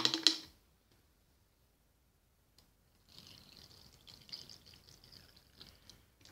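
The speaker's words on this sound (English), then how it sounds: "Now I've filled about that beaker about half full with water." Water from a squeeze bottle trickles into a beaker, a faint, steady splashing stream after a brief clatter and a moment of silence.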